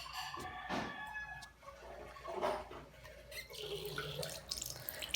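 A tap runs water into a sink for face washing, a steady close splashing stream with small clatters and shifts in flow, no talking over it.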